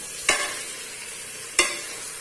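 Goat leg pieces stirred in a hot pan, two sharp scraping strokes over a steady loud sizzle, close by, no voices.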